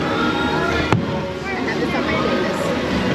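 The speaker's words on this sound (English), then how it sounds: "Watching the fireworks from Splash Mountain." Distant fireworks at Magic Kingdom, seen from Splash Mountain, thump and crackle under a steady wash of crowd and ambient noise, with one sharper bang standing out early.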